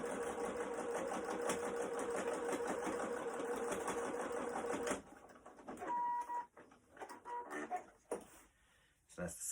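A sewing machine stitching the side seam of a fabric face mask runs in a steady, close whirring burst for about five seconds, then stops, followed by quieter handling clatter and brief sounds.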